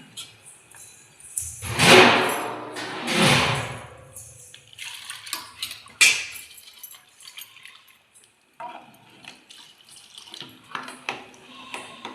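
Water pours into a pot of sambar in two short splashy bursts, then quieter trickles and small kitchen clatters follow, with no one speaking.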